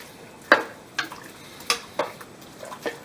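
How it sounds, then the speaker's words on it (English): Spoon stirring Filipino menudo with seasoning mix and paprika in a pot: a handful of separate, fairly quiet clinks and scrapes spaced irregularly over a soft background. "So we're going to stir this up real good."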